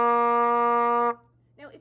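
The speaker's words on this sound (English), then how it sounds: "And my C do should sound like this." A trumpet sounds a single sustained C, steady and clear for about a second before cutting off, with a brief bit of talk following.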